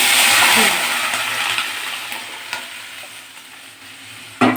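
Oil fries loudly in a pan with a dense, close sizzle that is strongest at first and then eases slightly, ending with a sharp clink of a utensil.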